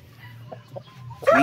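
Hens cluck in a backyard poultry coop, a few soft calls over a low steady hum, then a sudden loud flurry of squawking close by at the end.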